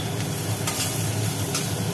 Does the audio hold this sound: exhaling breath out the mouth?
no